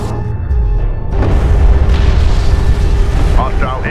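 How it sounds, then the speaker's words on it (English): A hostile interceptor explodes in Homeworld: Deserts of Kharak, a deep rumbling boom that swells and holds for several seconds, with radio-style voice chatter over it. "Hostile interceptor destroyed"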